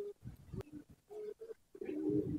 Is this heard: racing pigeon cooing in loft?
yes